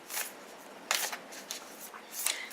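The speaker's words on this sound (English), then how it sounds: "Let me shuffle them." Tarot cards being shuffled by hand in a few quick riffling bursts, close and fairly quiet, with brief pauses between them and no talk.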